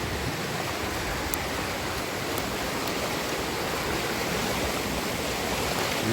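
Water flows steadily in a stream in the rain near a beaver dam site, a constant broadband rush heard close with no breaks and no voices.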